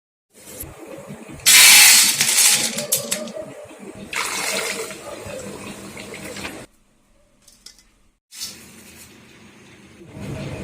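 Lentils for dal chanachur fry in hot oil, giving a loud broadband sizzle that swells and fades in bursts, drops almost to silence for a moment, then comes back.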